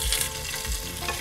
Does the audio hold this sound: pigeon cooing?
no